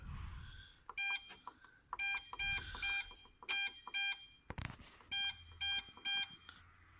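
A CF 25B dehumidifier gives repeated electronic beeps while its timer is being set, sounding as clusters of short, bright, evenly spaced tones at close range with no talking.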